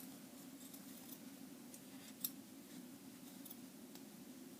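Scissors cut a small felt disc to serve as the base of a cloth decoupage Christmas wreath, with faint, soft snipping ticks at close range over a steady background hiss.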